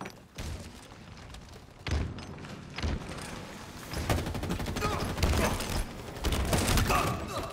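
Combat in the Halo Infinite video game, with a burst of rapid gunfire and several heavy thumping blasts that grow denser and louder toward the end.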